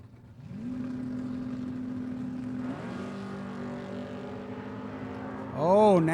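Drag racing cars launch down the strip at the Spring Fling Million, one pulling a big wheelie, engines holding a steady high drone that shifts pitch as they run, ending in a sharp rising rev.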